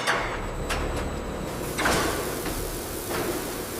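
A sliding door in a corn syrup factory rolls and clunks open, with several sharp knocks and a sliding rush over a steady industrial hum.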